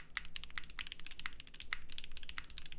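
Vertex Angle prototype mechanical keyboard being typed on, a steady patter of close, crisp key clacks with a few louder strikes, heard alone with no talk.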